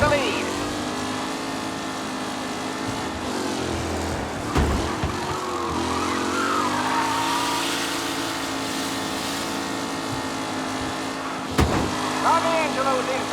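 Several race cars roaring along a circuit in Mafia Definitive Edition, with steady droning engines, shifting pitch as they pass, and a commentator talking over the noise.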